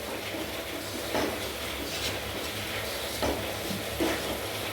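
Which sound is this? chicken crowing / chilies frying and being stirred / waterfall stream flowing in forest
chilies frying and being stirred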